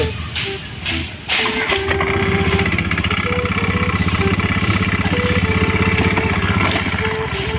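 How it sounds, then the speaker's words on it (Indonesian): A motorcycle engine idles steadily while warming up in a village setting, a continuous low throbbing rumble after a few opening knocks, close and loud throughout. "Panasin motor dulu."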